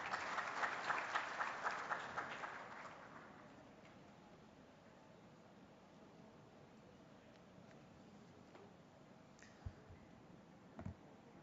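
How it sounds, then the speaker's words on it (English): At a 2022 national family planning summit, a round of applause for a speaker rings out briefly, loud for about three seconds, then dies away into a quiet room broken only by a couple of faint clicks. "Please extend a warm round of applause as I request him to articulate his thoughts"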